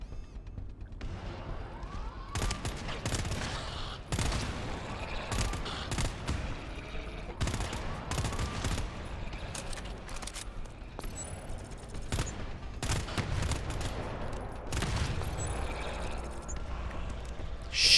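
Gunfire in the sci-fi horror shooter GTFO, bursts of automatic weapon fire and scattered shots over about eighteen seconds, fairly quiet and mixed with game effects.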